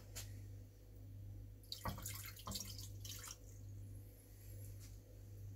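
Three-quarters of a cup of water poured for sweet and sour sauce: faint water trickles and splashes in short bursts over a low steady hum, quiet and close.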